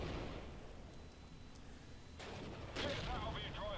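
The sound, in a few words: tank gun shots in Steel Division: Normandy 44 video game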